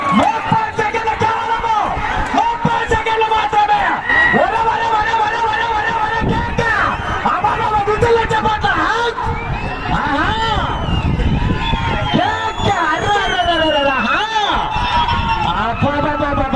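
A big crowd at a bull race competition in Gadwal district keeps up loud, continuous noise, cheering and whistling together, with a commentator talking over the din throughout.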